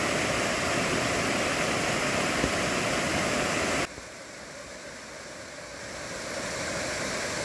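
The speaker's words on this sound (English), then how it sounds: "beautiful and pouring down rain." Heavy rain pouring down while driving out of jungle mountains, a dense, loud, broadband hiss that drops suddenly in level partway through, then slowly swells again, with no voices.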